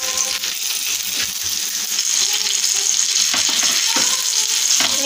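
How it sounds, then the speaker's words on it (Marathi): Fish fries on a tawa over full gas, a loud, close, continuous sizzle with crackling spits and occasional scraping clicks throughout, with no talk. "फिश एकदम मस्त असं फ्राय होऊन गेलेला आहे"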